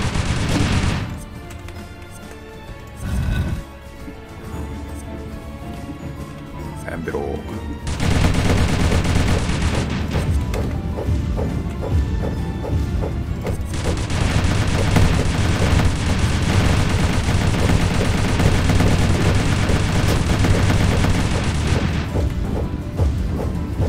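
Continuous rapid gunfire in the Dungreed video game, a dense unbroken barrage of shots that starts after a short opening burst and stays loud and steady throughout.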